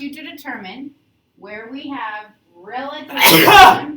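A student's sharp, loud sneeze bursts out in a classroom right after a teacher speaks about finding minimums on a graph.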